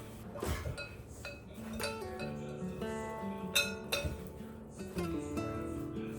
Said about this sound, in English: I'm just trying to get the flour and the sugar and the cinnamon just blended around a little bit.